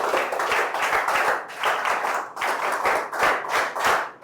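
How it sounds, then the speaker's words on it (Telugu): An audience claps rhythmically to congratulate ranked students at a school event, a dense and fairly close burst of hand claps that swells and dips in waves without pausing. "గట్టిగా చప్పట్లు కొట్టి అందరూ అభినందించండి"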